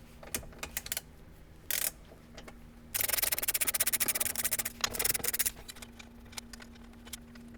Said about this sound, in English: this is the one that's going to require removing the two 10mm bolts